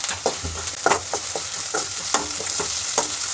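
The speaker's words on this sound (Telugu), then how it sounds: "కట్ చేసి పెట్టుకున్న ఆనియన్ ముక్కలు గోల్డెన్ కలర్ వచ్చినంత వరకు ఫ్రై చేసుకోవాలి" Chopped onion pieces fry in hot oil toward golden, a close steady sizzle broken by repeated rhythmic stirring scrapes and clinks, with no talking.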